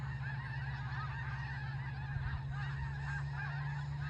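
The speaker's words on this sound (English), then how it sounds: "No, I thought these might be Canadian geese. These sure sound like it, huh?" A flock of Canada geese honks continuously overhead at Potholes State Park, Washington, many overlapping calls over a steady low rumble, fairly distant and faint.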